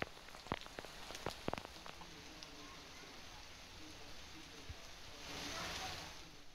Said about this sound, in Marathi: त्यामुळे आता जिल्ह्यात सर्वदूर जोरदार पाऊस पडतोय।